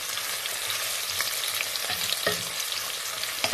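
Curry leaves sauté in a hot pan while being stirred, a dense, loud hiss of frying with faint scraping from the stirring, steady throughout and without voices.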